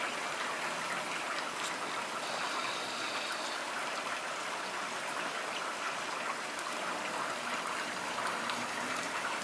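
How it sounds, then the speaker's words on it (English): A heavy rain downpour hisses in a steady, dense wash of falling water, continuous and unchanging throughout, with no voices. "Ah yes, the downpour that we've been promised for a few days."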